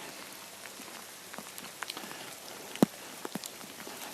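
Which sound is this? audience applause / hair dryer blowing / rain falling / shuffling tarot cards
rain falling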